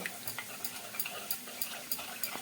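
Strained yogurt is mixed in a bowl, with a quiet, steady series of regular light taps and soft clicks from the utensil, close and faint.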